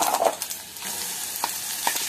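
Dried red chillies and green chillies hit hot oil with a bright, close crackling sizzle that runs the full brief moment, with a few small pops and no voices.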